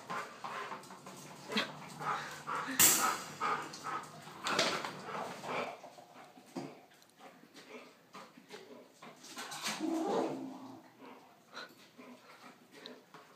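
Welsh Terriers and Airedales, three dogs, playing with balls outdoors; scattered yips, whimpers and short barks with scuffling, rising and falling over several seconds, fairly close.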